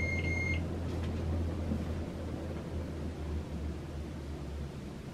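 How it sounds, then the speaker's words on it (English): Harbor Breeze Mazon ceiling fan spinning down after being switched off, a steady low hum and soft airy whoosh that slowly eases, with a brief electronic beep at the start. "Now I'm going to turn off and show you the spin down"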